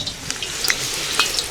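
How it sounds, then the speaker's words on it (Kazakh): Potatoes fry in hot oil, a soft steady sizzle with a few brighter crackles and pops close by, with no talk. "Май қызды қазір нені қуырып алайық, картошканы қуырып алайық"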